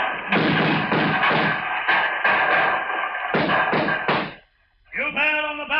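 Heavy booming thuds from cannon fire at a barricade in a 1937 radio drama, a series of loud, close blasts in an irregular run, then a short gap before a louder roar returns at the end.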